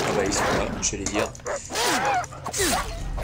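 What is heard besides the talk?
rabid dogs barking in video game Far Cry 3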